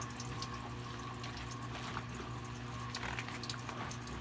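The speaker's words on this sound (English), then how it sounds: "I'm washing, rinsing it out. The water is, I'm moving it to cold, and the water is getting clear." Cold tap water runs steadily into a sink as a silk scarf is gently rinsed, a continuous close splashing stream with soft sloshing, no voices.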